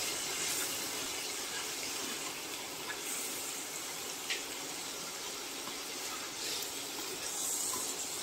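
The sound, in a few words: fish belly frying in mustard oil with spices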